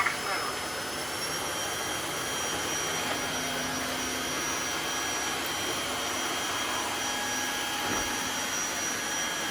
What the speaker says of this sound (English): let's try it on max mode